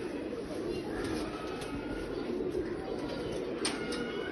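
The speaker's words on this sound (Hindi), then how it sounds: "ਪਿਓਰ ਰਾਮਪੁਰੀ ਕਬੂਤਰ ਹੈ ਜੀ" A pure Rampuri pigeon coos softly in Rajiaan village, its low, rounded calls repeating over a steady background hum, moderately near but not loud.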